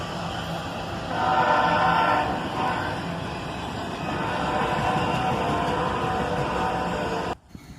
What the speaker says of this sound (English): An ES-44ACH and an AC-44CW get this Autorack train moving.